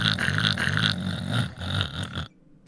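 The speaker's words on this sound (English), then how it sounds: "She soundboarded the snoring." Snoring sound effect played from a soundboard during a tabletop Dungeons & Dragons session, heard as a few loud, rhythmic rasping snores that stop abruptly near the end.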